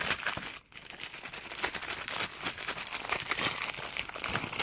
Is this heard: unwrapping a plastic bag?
yes